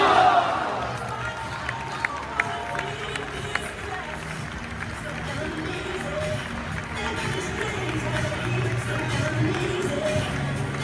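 Supporters in a football stadium cheer and applaud for the Brazilian defender Igor Silva, a broad roaring crowd with a public-address voice running over the top and scattered sharp claps.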